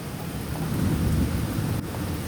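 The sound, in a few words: thunder during a rainstorm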